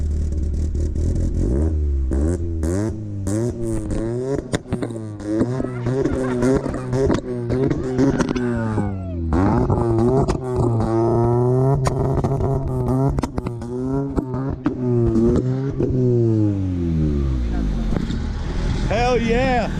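A Honda Civic EF engine revs hard at close range in a garage, rising and falling through repeated sharp revs with popping two-step bursts. Excited voices are heard between the revs.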